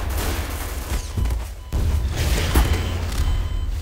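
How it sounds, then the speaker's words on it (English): Rocket launcher fire in the game Garry's Mod comes as loud, close booming blasts with mechanical clatter around them, a couple of heavy hits landing about a second apart. "I so think that was a rocket launcher"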